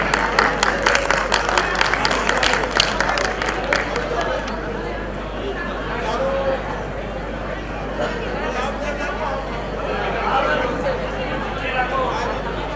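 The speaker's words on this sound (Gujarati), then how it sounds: "આપણે સૌ તાળીઓના નાદથી આ ક્ષણને વધાવીએ" An audience at a public inauguration ceremony in Zaverchand Meghani Hall, Bhavnagar, breaks into dense clapping for about four seconds, which then gives way to a murmur of crowd chatter and voices.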